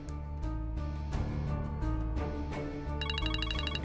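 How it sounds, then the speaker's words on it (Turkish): A mobile phone ringtone plays a loud, repeating electronic melody of bright tones, steady and close throughout, with a shift to a rapid trilling pattern near the end. "Anne dur telefon."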